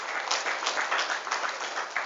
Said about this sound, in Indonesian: Tepuk tangan untuk santri.